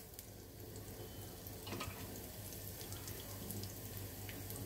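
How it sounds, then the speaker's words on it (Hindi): Cumin seeds sizzle in hot oil in a pan for a potato curry, a steady, faint, hissing fry that holds evenly throughout with a low hum beneath. "तेल गरम हो गया है, इसमें जीरा डालूंगी थोड़ा सा"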